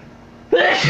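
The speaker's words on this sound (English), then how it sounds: "Uh-oh, sneezing alert." A single sharp sneeze bursts out close to the microphone after a moment of near silence, followed by a short breathy tail.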